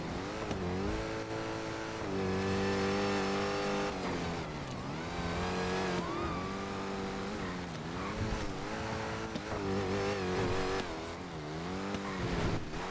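Car engine droning steadily in GTA roleplay on the NoPixel server, the car smoking and damaged; the tone rises and falls through repeated revs and shifts, loud and continuous with no talk over it.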